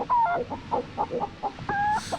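A chicken in the video game Breathedge clucks in a quick run of short, close, squawking calls with a longer drawn-out cluck near the end, loud and alone.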